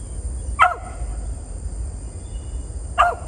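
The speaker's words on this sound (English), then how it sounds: "Bark her down out of that tree." Mountain cur dog barking up a tree at a squirrel, two sharp separate barks about two seconds apart, outdoors over a low steady background hum.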